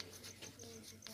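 A pen scratches on paper in short, faint strokes while a graph problem is worked out, quiet and close, with no talk.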